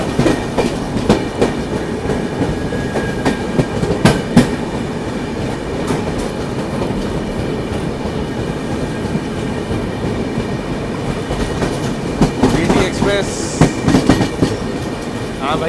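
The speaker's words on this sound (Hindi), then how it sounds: "जबरदस्त ओवरटेक था भाई, आंध्र प्रदेश एक्सप्रेस रॉकिंग पे।" Andhra Pradesh Express overtaking the Grand Trunk Express on parallel Indian Railways tracks, a continuous rumble of passing coaches with rhythmic clickety-clack wheel beats and occasional sharp clanks, close and loud for the whole stretch.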